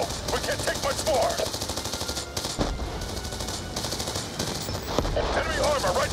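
Sustained automatic gunfire in Black Ops 2 during a convoy battle, dense rapid bursts of machine-gun fire with scattered louder shots, continuous and loud throughout, with game voices in the mix.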